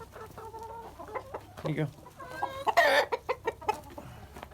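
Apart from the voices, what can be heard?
chickens clucking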